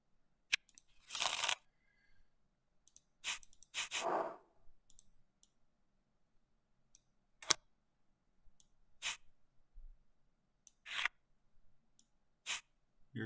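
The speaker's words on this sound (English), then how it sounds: "Shuffling the deck." A deck of cards being shuffled during a card game, coming as several short, crisp riffling bursts separated by quiet pauses, with scattered faint clicks of cards in between, close and fairly soft.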